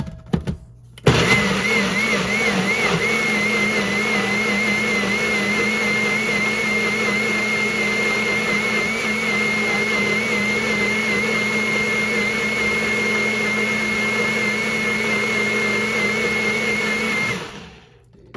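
A blender whirs steadily at high speed for most of the clip, blending homemade apple sauce, loud and close, starting abruptly and cutting off near the end.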